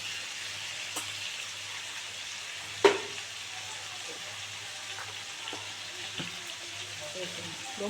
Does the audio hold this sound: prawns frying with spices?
yes